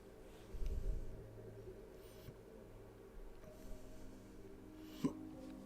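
Human hiccups, a couple of abrupt, soft gulping bursts close to the mic, separated by a few seconds of quiet room noise.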